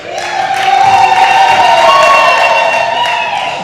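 A crowd at a dry port site visit in Dar es Salaam breaks into loud, sustained ululation mixed with cheering, rising and holding near and strong for several seconds.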